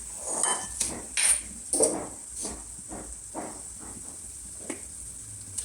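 Shallots and garlic drop into a pot for chicken tom yum with mushrooms, giving a few close clattering knocks and a light sizzling hiss, with scattered scraping and clinking between the louder hits.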